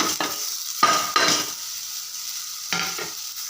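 Bitter gourd and tomato pieces with a pinch of turmeric sizzle in a pan, sounding in three or four short, loud bursts of hiss and stirring separated by near silence.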